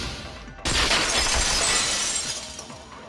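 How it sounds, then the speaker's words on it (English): A window shatters in the Danganronpa 2 video game: one sudden loud crash of breaking glass, followed by a dense spray of falling shards that slowly thins out. "At the entrance hall, the girls heard the sound of the window shattering."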